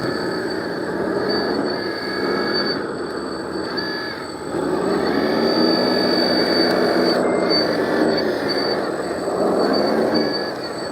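A stationary Cat heavy mining machine idles with a steady mechanical drone. Sustained high-pitched hiss and whine tones from its air brake run through the whole stretch, and the overall level rises partway through.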